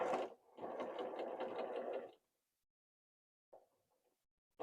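A sewing machine stitches quilt block seams in a steady, close, rapid whir for about two seconds, stops, then gives a short burst of a few stitches after a pause.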